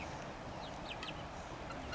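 Chickens clucking at a farm, several soft calls breaking out near the middle over a steady, noisy outdoor background.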